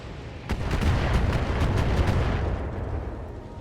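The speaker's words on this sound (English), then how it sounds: "More missiles, of course." Missiles slam into a mech in the BattleTech video game, a sudden heavy blast followed by a dense, rumbling barrage of explosions that rolls on for a couple of seconds, then fades into a low, lingering rumble.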